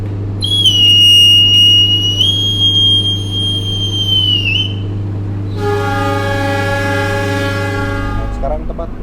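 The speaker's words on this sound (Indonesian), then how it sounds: "Tepat pukul 18:50 kereta api Gajayana telah berangkat dari stasiun Gambir menuju ke stasiun Malang." The Gajayana Luxury train departs Gambir station toward Malang, its whistle sounding loud and sustained over a deep idling drone, then a second horn-like whistle with rich harmonics, the rumble building as it pulls away.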